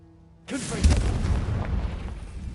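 In Hogwarts Legacy, a Confringo blasting spell goes off as one sudden, close, loud explosion that then rumbles and crackles steadily for about two seconds.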